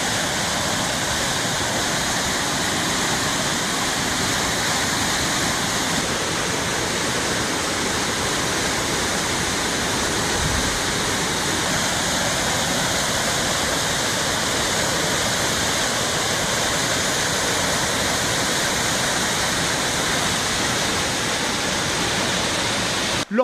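Floodwater roars through an overflowing channel after a heavy downpour in the capital, a loud, unbroken rushing wash that holds steady throughout with no pauses.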